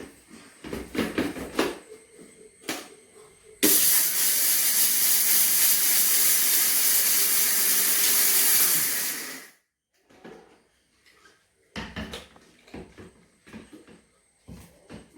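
Mixer grinder running loud and steady for about six seconds, grinding ingredients for idli chammanthy powder, with quieter clatter and handling before and after.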